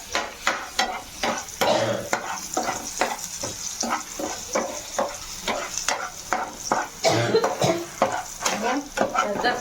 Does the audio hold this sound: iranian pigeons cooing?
no